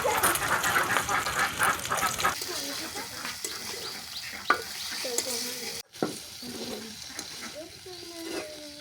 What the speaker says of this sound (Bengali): এখন আমি পেঁয়াজ দিয়ে দেব, তারপর আমি মরিচ দিয়ে দেব, তারপরে আমি আলু দিয়ে দেব।